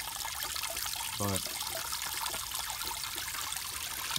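Water trickles and splashes steadily into outdoor guppy pond tubs during a water change, a continuous bright wash with a brief spoken word.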